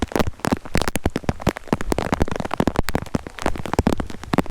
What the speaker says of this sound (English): it recorded for like 40 minutes from when I just recorded before with the hailstorm